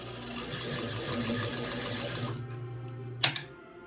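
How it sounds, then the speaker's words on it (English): A sewing machine stitches fabric with a fast, steady mechanical whir for a couple of seconds, then stops, followed by a sharp click and brief knocks as it falls quiet. "And then you're just gonna sew."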